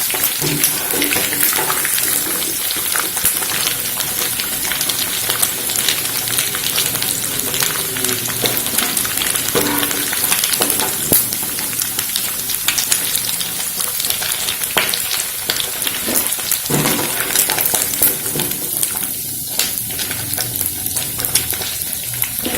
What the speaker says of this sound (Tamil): சிக்கனை இதில் போட்டு அதை நம்ம நல்லா ஃப்ரை பண்ணி எடுக்கும்போது இந்த மாதிரி கோல்டன் கலராக வரும்போது நம்ம எடுத்து வச்சுக்கணும்.